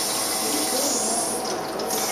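Water pours steadily into a baking dish set around creme brulee ramekins for a water bath, a continuous close trickling splash at low-moderate level with no talk.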